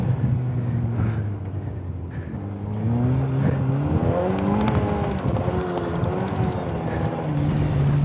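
Turbocharged Exocet track car driving with a loose, flapping tire, a steady engine drone with shifting pitch heard from onboard, loud and continuous with rhythmic rumbling underneath.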